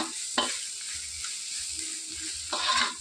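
Ginger garlic paste and turmeric frying in hot oil for a mint chutney, with a steady sizzle and a few scraping stirs of a spoon in the pan.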